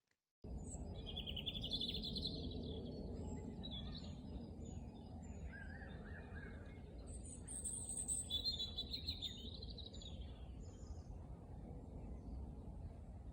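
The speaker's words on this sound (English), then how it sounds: "everyone's identifying it's birdsong" Birds sing and call from a natural Scottish setting, bright chirping phrases recurring over steady low outdoor background noise, moderately loud and continuous throughout with no voices.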